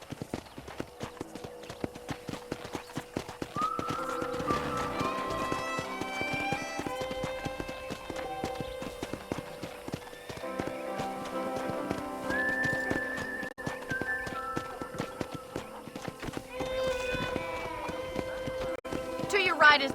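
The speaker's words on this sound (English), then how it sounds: "let's see if you can still ride a horse" A horse in the Western video game Red Dead Redemption trots and gallops on a ranch, its steady clip-clop hoofbeats running continuously over in-game music, with a voice speaking over it.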